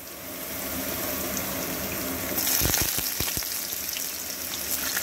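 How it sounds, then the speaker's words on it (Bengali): Cut potatoes tossed into hot oil tempered with a dried red chilli, a steady fry that swells into a louder burst of crackling as they hit the pan, with a few thumps, close with no talk. "এর মধ্যে দিয়ে দিচ্ছি কেটে রাখা আলুগুলো।"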